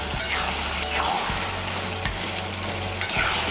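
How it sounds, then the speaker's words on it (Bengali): Chopped coriander being stirred into a thick bottle gourd and fish head curry, a steady loud scraping and sizzling with repeated spoon strokes against the pan, heard alone without talk. "ধনেপাতা কুচিটা ভালো করে মিশিয়ে নিয়েছি"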